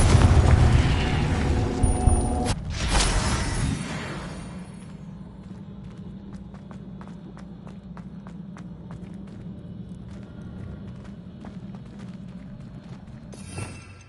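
Confringo spell explosion in Hogwarts Legacy, a loud booming blast at the start with a heavy rumbling tail, then fading into quieter game ambience with faint scattered clicks and footsteps.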